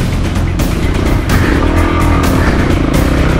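A Voge 300 Rally motorcycle loaded with luggage climbs uphill off-road, its engine loud and close, droning steadily as it pulls under continuous throttle.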